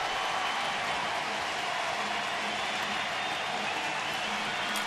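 A baseball stadium crowd cheers and applauds after the Cleveland Indians score against Tampa Bay, a steady, broad roar of many distant voices holding evenly throughout.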